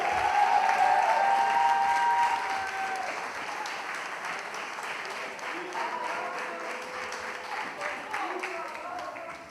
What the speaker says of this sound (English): So let's give a round of applause to my friend Carlos and the Red Eagle.